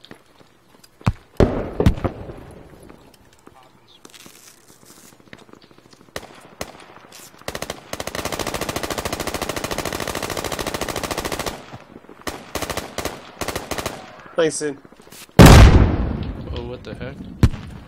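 Rockets explode and gunfire crackles in the Squad video game on the Kohat Toi River Valley map: scattered loud blasts, a long sustained burst of automatic fire, then a heavy explosion near the end, with players talking.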